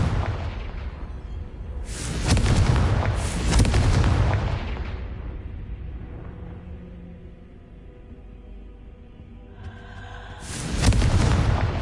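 Confringo fire spell blasts in Hogwarts Legacy, a loud booming explosion with crackling rumble at the start, a second burst a couple of seconds later, fading to a low hum before another blast near the end.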